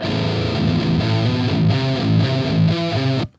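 Heavily distorted metal guitar through the Emissary amp simulator in FL Studio plays a chugging riff of palm-muted chords in a tight rhythm, loud and alone, ending abruptly.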